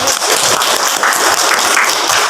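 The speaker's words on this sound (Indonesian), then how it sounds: "Boleh tepuk tangan semuanya." Classroom applause during an Islamic religious education lesson, with the whole class clapping in a steady, dense patter that holds at an even loudness throughout.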